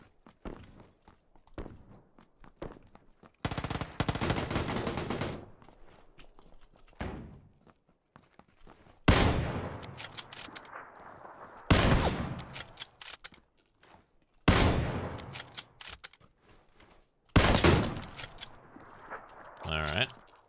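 Gunfire in the video game PUBG, with bursts of automatic weapon fire coming in several loud, separate volleys spaced a few seconds apart, with quieter footsteps and small clatters filling the gaps.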